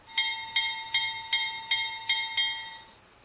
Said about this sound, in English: like the bell,